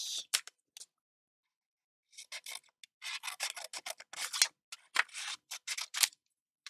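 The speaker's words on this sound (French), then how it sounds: "Allez, je coupe au milieu." Scissors snip through paper during pop-up card crafting for a scrapbook album, with brief crisp cuts followed after a pause by a run of quick, close, rasping snips.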